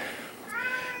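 A cat meows with a rising, drawn-out cry, close and fairly faint, against a soft background hiss.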